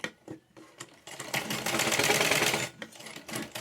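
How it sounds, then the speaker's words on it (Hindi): A sewing machine stitches a Patiala pajama in close, fast runs, starting with short bursts and then a sustained whir before stopping and restarting briefly. "यहाँ से इस तरह से ऐसे मिलाकर इस तरह से यहाँ सिलाई चलाऊंगी।"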